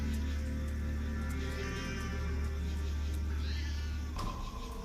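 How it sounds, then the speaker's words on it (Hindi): A cat meowing in a Hindi TV horror serial scene, a drawn-out cry over a steady low background hum, with no talk during the clip. "अरे ये तो बिल्ली का आवाज था।"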